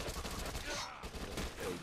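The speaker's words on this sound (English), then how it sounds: "I'm gonna get my SMG out then." SMG fire in the Dead Nation zombie shooter: a rapid, unbroken stream of quiet, dense bursts over nearly two seconds.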